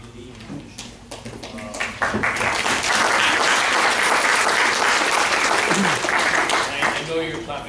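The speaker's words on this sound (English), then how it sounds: "I know you're clapping for the service" Sustained audience applause at a township board of education meeting, building from scattered claps into a loud, steady ovation that holds for several seconds before easing slightly, with some voices mixed into the crowd noise.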